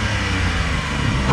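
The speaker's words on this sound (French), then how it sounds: "Et comme ça vous donne un petit aperçu de la sonorité du moteur." A Porsche 718 Cayman GT4 engine runs loud and close with its exhaust valves open, a brief, steady, throaty roar with no talk over it.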